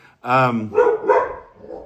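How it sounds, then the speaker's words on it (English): A dog gives a few loud, close barks at someone outside in the snow, one sharp bark followed by two shorter ones and a softer trailing yip. "There's my dog. He sees somebody out in the snow."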